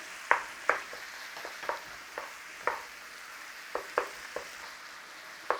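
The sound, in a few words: minced beef frying in a pot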